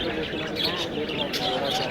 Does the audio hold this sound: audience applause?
no